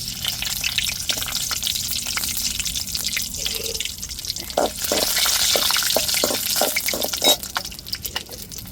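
Whole spices such as cinnamon fry in oil in a pan for a prawn thokku, giving a steady close sizzle with scattered drips and stirring clicks and no talk.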